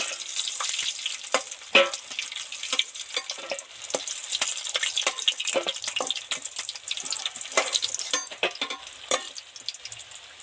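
Bhetki fish deep-frying hard in hot oil: a steady bright crackle with sharp pops and spits, close and fairly loud, with no talking.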